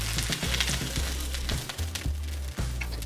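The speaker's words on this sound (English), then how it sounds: "So we're gonna put in our hash browns for the frozen hash browns ones that we got." Frozen hash browns fry in oil on a Blackstone griddle, a steady close crackling sizzle with scattered pops and occasional scraping, no voices over it.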